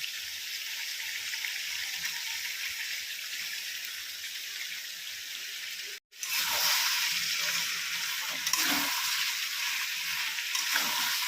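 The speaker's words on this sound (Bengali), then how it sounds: "কষা প্রায় হয়ে এসছে তেল ছাড়তে আরম্ভ করে দিয়েছে এবার আমি দিয়ে দেবো এই ভেজে রাখা পেঁয়াজটা" Chicken curry frying in hot oil, a steady broadband sizzle with a brief cut midway, then a louder, fuller sizzle as fried onions go into the pan.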